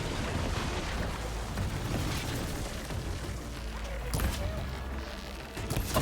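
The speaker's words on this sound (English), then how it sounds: "A full explosion did 900 damage." A game explosion in Horizon Forbidden West, rumbling and dense across the whole stretch with a couple of sharper bursts toward the end, loud and close.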